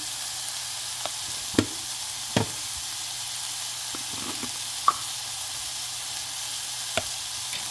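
Fenugreek curry masala frying in a pan gives a steady, quiet sizzle, broken now and then by a few sharp clicks and scrapes. No voices can be heard.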